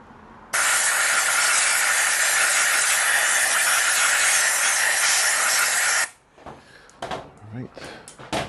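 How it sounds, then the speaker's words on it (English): Compressed air sprayed into Yamaha R3 ABS parts during an ABS delete: a loud, steady close hiss lasting about five and a half seconds, then stopping abruptly, followed by faint clicks and handling noises. "I'm going to spray a bit of air in here to make sure that there's no dust"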